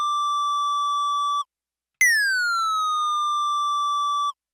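A synthesized kick-drum sine tone made in Ableton with a pitch envelope: a steady bright tone, a short gap, then a second tone that starts higher and glides quickly down before holding. It is clean, loud and alone, with no voices.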